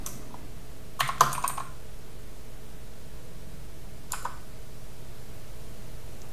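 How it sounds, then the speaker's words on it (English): Typing on a computer keyboard while entering a name during setup of a Home Assistant Green smart home hub: a brief cluster of clicky keystrokes near the one-second mark, then a single faint tap later, over a quiet steady background hiss. "start by typing in my name."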